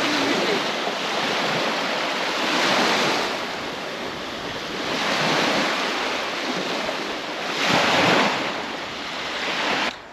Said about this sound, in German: Es wird nämlich ganz schön windig und kalt hier.